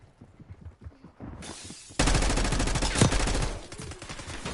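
Shotgun fire in Call of Duty on Rebirth Island: quiet background sounds at first, then a sudden loud burst of gunfire with sharp repeated blasts lasting about two seconds.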